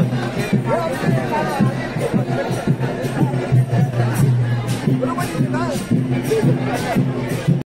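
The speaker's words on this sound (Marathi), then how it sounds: "कुंभवड्या गावात या शिगम्या उत्सवामध्ये किती गर्दी आहे ते बघा" A dense crowd at the Shimga village festival in Kumbhavade, Rajapur fills the scene with a steady, loud hubbub of overlapping chatter and movement that runs throughout without pause.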